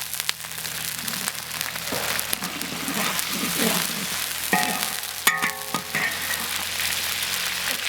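Minced pork topping stir-fried in plenty of hot oil with a splash of cooking wine, a steady close sizzle and crackle with scraping stirs, brief bright hisses near the middle.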